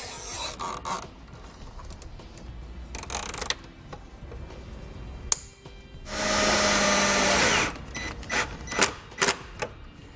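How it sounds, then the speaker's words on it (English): A drill drives a self-tapping screw into the dash of a 2007 Chevrolet Silverado, giving one loud, steady whir of about two seconds, surrounded by clicks and rustling handling noises close by, with no talking. "go ahead and put a self-tapping screw right here to keep it nice and secure"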